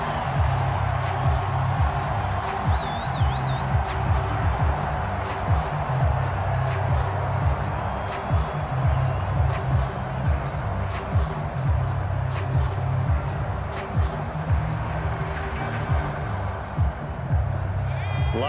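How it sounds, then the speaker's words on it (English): Football stadium crowd shouting and murmuring steadily while watching a replay of an NFL-style game, a broad continuous roar with scattered louder yells throughout. "Plenty of shouts from this crowd as they watch the replay"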